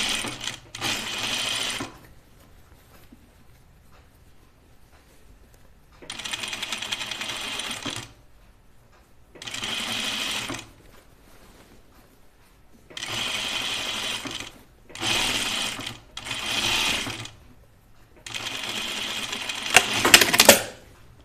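A sewing machine understitches a seam on a Myrna dress, with the seam allowance pressed toward the bias. It runs in several short bursts of rapid stitching, separated by quiet pauses, close and fairly loud.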